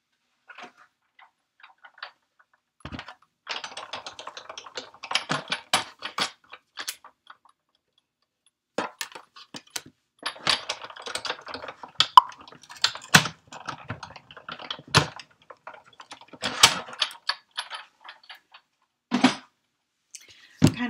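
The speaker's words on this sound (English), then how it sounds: "We're going to die cut that out." A die cutting machine runs flower-shaped dies through paper for a tropical pineapple card, giving bursts of close mechanical clicking and whirring with short pauses between passes, no talk over it.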